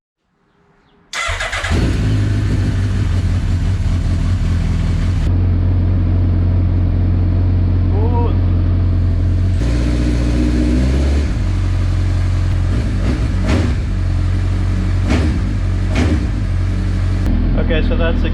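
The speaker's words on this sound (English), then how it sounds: "I'm gonna start up the bike and make sure that's at 0" A motorcycle engine starts close by with a sharp burst and settles into a loud, steady idle that runs on throughout, with a brief blip partway and a voice talking over it.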